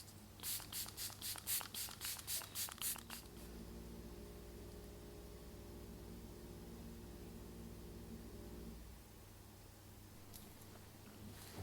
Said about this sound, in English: Then what I do is do another layer of setting spray.